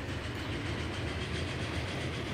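A passenger train in the video game Transport Fever 2 runs out of sight underground, a low, continuous rolling rumble with a soft clickety-clack rhythm and no voices.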